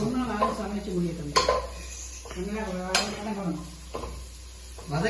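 Onions sautéing in a pan at home, with a spoon scraping and clanking against the metal under a steady sizzle. Several sharp knocks punctuate the stirring, and voices talk over it at times.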